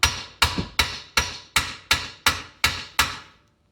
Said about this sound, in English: little unknown trick here, you bash it from the side